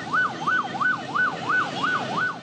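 An ambulance siren wails in a steady rising-and-falling pattern, about seven cycles, loud and close, with traffic rumble beneath it. The ambulance is stuck in Sunday congestion outside the main gate of a Sindh government hospital, where a bird market sets up.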